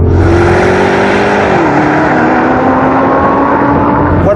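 Audi R8 and Audi RSQ8 accelerating hard side by side in a rolling race, in their sportiest settings with manual gearbox mode, a loud continuous engine roar rising in pitch with a gear change partway through.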